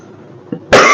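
A single sharp cough bursts out loud and close after a brief faint throat noise, then rings on with a noisy tail to the end.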